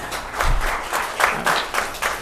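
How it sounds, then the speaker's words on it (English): Applause in a county board meeting room, uneven clapping from a modest group that swells and dips in rhythmic pulses and carries on throughout. "Let's give them a round of applause as well."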